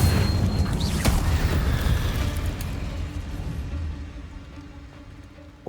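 A Confringo fire spell explodes in Hogwarts Legacy, starting as a loud, deep boom that rolls into a long rumbling tail and slowly fades over several seconds.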